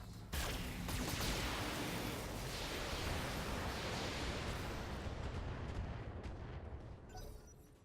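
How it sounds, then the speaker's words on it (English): Continuous roar of weapons fire and explosions from the BattleTech video game, a dense, loud wall of blasts that holds steady for several seconds, then tapers off. "Let's open fire here."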